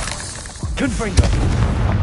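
Confringo fire-blast spell going off in Hogwarts Legacy, a short boom-like burst with crackling tail, followed by a second pop, over steady game background; a voice speaks faintly around it.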